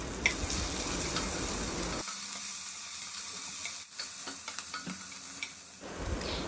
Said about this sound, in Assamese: আৰু পিঁয়াজখিনি দি ভালদৰে ভাজিম যেতিয়ালৈ